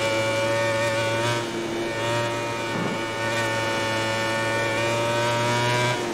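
A MotoGP racing motorcycle at Misano roars at full throttle in a video game, a steady high-pitched engine whine with layered harmonics holding near-constant pitch, briefly dipping mid-way before climbing again.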